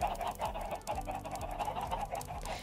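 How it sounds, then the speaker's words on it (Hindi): Chicken clucking in the Minecraft video game, a run of short synthetic clucks and squawks repeating over a busy game soundscape with no talking. "अरे यार ये मुर्गी बोल ले भाई"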